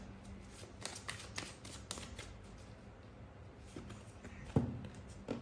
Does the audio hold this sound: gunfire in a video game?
no